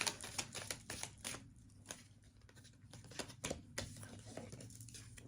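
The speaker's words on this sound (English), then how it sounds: "I'm going to keep shuffling because that was a lot of cards" Tarot cards shuffled repeatedly by hand, giving a run of quick papery riffles and snaps in an irregular rhythm, close and moderately quiet with no talking.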